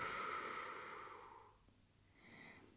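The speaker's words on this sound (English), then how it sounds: "Exhale." A long, soft exhale during a pregnancy pilates stretch, a breathy rush close to the microphone that fades out, followed by a lighter breath.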